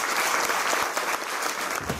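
Warm applause from a school theatre audience in Kalamaria, Greece, honouring student performers. Dense, steady clapping fills the whole stretch at close range, with no voices over it.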